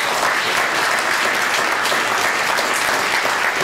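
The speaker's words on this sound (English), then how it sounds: "Clap your hands." Dense, steady clapping from an audience, many hands applauding at once at close range throughout, with no pause.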